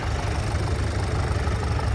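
A small tractor engine idles nearby, a steady low knocking rumble that runs evenly for two seconds with no talk over it.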